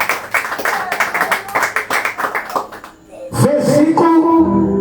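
A church congregation claps for Jesus during a service, loud rhythmic hand claps for about three seconds, then giving way to music or voices.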